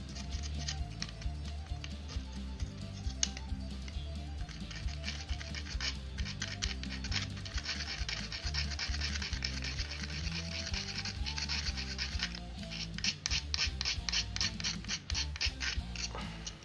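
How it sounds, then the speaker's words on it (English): Someone sands a 3D-printed AT-ST drop pod diorama part by hand with continuous scratchy rubbing strokes, close but quiet, with no talking. "That needs to be sanded here on this guy a little bit."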